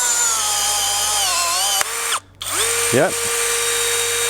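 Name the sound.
18V battery brushless riveter setting stainless steel rivet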